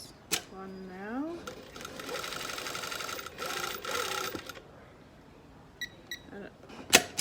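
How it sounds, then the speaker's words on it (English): A domestic sewing machine hems a pair of jeans, running in a fast buzzing burst for several seconds, then snipping the thread automatically with small clicks and a closing clack, close and clear. "My machine has an automatic thread cut, so it cuts the thread automatically when I finish sewing"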